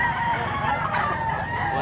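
At a chilly chicken market in Mantalungon, Cebu, a rooster crows nearby in one sustained, ringing call over a low, steady background murmur.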